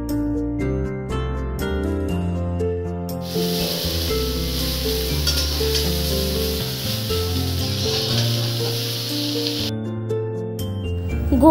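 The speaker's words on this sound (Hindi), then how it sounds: "अभी कढ़ाई में जो बचे हुए तेल है उसी में हम डाल देंगे गोभी के टुकड़े और इनको 2 से 3 मिनट तक हम फ्राई कर लेंगे" Cauliflower pieces hit leftover hot oil in a kadhai, a sustained bright hissing sizzle lasting several seconds, heard under steady background music.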